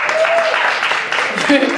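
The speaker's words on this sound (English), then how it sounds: "A round of applause for Joan" Brief burst of audience applause at a comedy charity benefit, steady dense clapping from a nearby crowd with a few voices mixed in.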